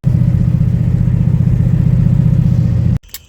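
A vehicle's engine rumbles loud and close with a pulsing throb while driving for about three seconds, then cuts abruptly to quiet with a few faint knocks.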